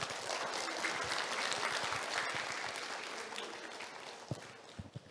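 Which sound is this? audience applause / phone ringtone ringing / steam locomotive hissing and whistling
audience applause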